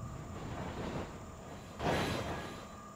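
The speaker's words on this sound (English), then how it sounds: "It is cool how you can just take a tram ride from Stormwind to Ironforge." The underground Deeprun Tram from Stormwind to Ironforge in World of Warcraft, a steady rumbling rail drone with a swelling whoosh midway, moderately loud and without speech.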